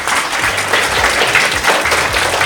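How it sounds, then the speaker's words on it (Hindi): A studio audience claps loudly and close up to welcome a guest on an Independence Day special television show. The applause is continuous and dense, with a faint low hum underneath. "भरपूर तालियों में"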